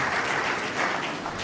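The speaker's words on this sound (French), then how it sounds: "sous des applaudissements nourris" Students at the University of Kindu applaud in a lecture hall as a former prime minister takes the stage, a thick, continuous burst of many hands clapping at steady loudness without voices.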